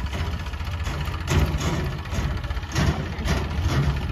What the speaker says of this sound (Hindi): ये भी मेसी ट्रैक्टर है।